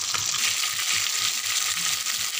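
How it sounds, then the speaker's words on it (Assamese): A fish head fries in a pan, giving a steady, loud broadband sizzle that fills the whole clip, with faint low stirring or shifting sounds underneath and no speech. "এই যে মাছৰ মূৰটো এইটো ভাজিছোঁ"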